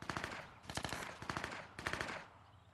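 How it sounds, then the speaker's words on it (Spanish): Rapid automatic gunfire from a video game, several loud bursts of repeated shots separated by short pauses, close and dominant with no talking over it. "Ojo, ojo, que me disparan con el disparo."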